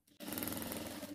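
A sewing machine runs steadily for about a second, stitching just the lining of a small handbag, a dense mechanical whir starting abruptly after a brief soft sound.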